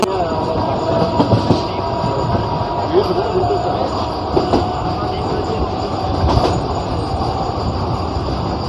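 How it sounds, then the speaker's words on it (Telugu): A push-pull MEMU train pulls out of Ghatkesar and runs along the tracks, a loud continuous rumble with wheel clatter and faint squeals, heard from on board with some talk in the background. "మన ట్రైన్ అయితే బయలుదేరిపోయింది గట్కేశ్వర్ నుంచి వెళ్ళి."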